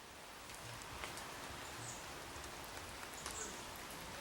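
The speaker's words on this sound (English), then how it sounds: "it's starting to rain on the Alice box" Light rain begins to fall outdoors at Beauchief Abbey in Sheffield, a soft, faint, even patter and hiss with a few scattered louder drops.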